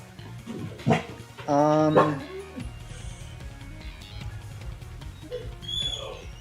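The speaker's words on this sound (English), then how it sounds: "Sorry if you can hear the dogs." A dog barks a few times in the background, including a short run of sharp yips, mixed with someone talking and Pokemon Scarlet Violet game sounds.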